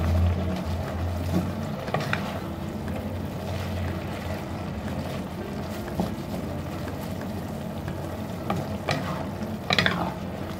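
Kangkong leaves cook in a pan with tofu and oyster sauce, giving a low bubbling sizzle with scattered scrapes and clinks from stirring, steady and close throughout.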